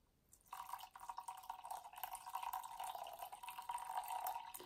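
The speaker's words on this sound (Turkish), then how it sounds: "150 gram su koyacağım." Drinking water poured into a bowl set on a kitchen scale, a quiet steady trickling stream with small splashes that grows slightly fuller as the bowl fills, heard alone.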